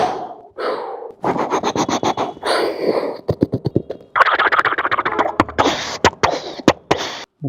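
A human voice mimics Bangladesh Liberation War weapons, with rapid mouth-made bursts of gunfire, staccato pops and rattling volleys, and hissing blasts in uneven clusters, close and loud.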